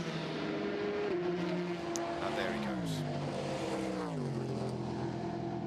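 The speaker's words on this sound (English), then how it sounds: "The LMP2 cars rushing past" LMP2 prototype race cars rush past at the 24 Hours of Le Mans, engine tones sweeping downward as they pass, loud and continuous under a commentator's voice.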